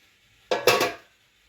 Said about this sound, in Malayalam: ഇനി നമുക്ക് ആ കോളിഫ്ലവർ അതിലേക്ക് ഇട്ട് കൊടുക്കാം